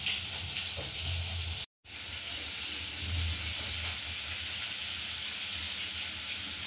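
Three pieces of fish fry in a pan with a loud, steady sizzle and crackle that cuts out for an instant and then continues, with no talking.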